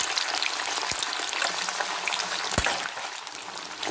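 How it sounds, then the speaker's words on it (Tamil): Cut potatoes for French fries deep-fry in plenty of oil in a kadai, a steady close sizzle and crackle running throughout, with a couple of brief knocks of a ladle or spoon. "அந்த உருளைக்கிழங்கு வந்து மிதக்கணும். அப்போ தான் வந்து நல்லா ஃப்ரை ஆகும்."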